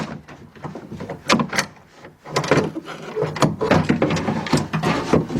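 A door handle carrier slides out of a BMW X5 door panel during a handle reinforcement repair, giving a series of plastic and metal scrapes, clicks and knocks, close and irregular, with no talk.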